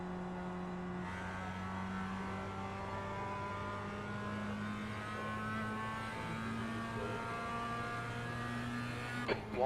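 Mazda MX-5 race car engine on track at Tsukuba, a steady sustained drone holding a constant tone throughout, heard from inside or near the car at moderate loudness, with a brief bump at the very end.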